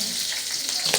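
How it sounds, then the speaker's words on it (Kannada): Garlic sizzles and fries in a hot pan for chicken chilli, a steady close crackle with a brief stirring scrape near the end. "ಬೆಳ್ಳುಳ್ಳಿ ಡ್ರೈ ಆಗ್ತಾ ಫ್ರೈ ಆಗ್ತಾ ಇದೆ."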